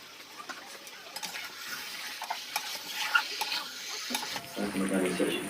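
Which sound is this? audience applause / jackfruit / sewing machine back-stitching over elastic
jackfruit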